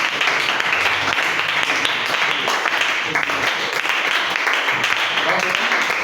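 Church congregation applauding in praise, a steady dense clapping that holds through the whole stretch with voices mixed in beneath.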